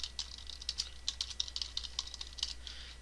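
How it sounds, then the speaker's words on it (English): Password being typed on a computer keyboard during a server setup, a quick irregular run of crisp key clicks against a steady low hum, with no talking. "We will then type in a password"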